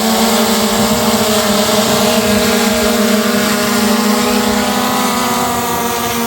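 A DJI drone hovers during an automatic landing, its propellers making a loud, steady, close whine with sustained tonal hum and no break across the span, with no talk over it.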